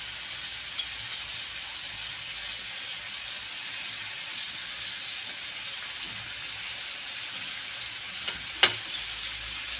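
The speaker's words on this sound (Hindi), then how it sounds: "ये मैं इधर देसी घी डाल रही हूँ।" Desi ghee sizzling steadily in a pan as a tempering for mixed mash and chana daal, a constant soft frying hiss with a couple of faint clicks.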